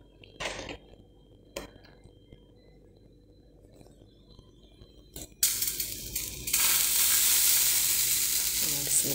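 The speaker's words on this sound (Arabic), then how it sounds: "دوك انا نطيب قدامكم البغرير." Baghrir pancakes cooking in a pan in an Algerian home kitchen: a few sharp clicks and knocks at first, then a loud, steady sizzle that starts suddenly partway through and holds to the end.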